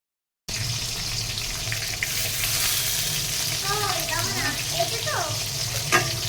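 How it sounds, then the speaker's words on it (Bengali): Eggplant slices fry in hot oil with a loud, continuous crackling sizzle, while faint chirpy sounds rise briefly midway and a sharp clink lands near the end. "আর এইখানে ভাজা হচ্ছে বেগুন ভাজা"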